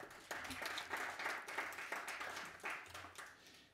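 Applause from a crowd at a talk, steady clapping that swells and fades over a few seconds, moderately far and fairly faint, with no voices over it.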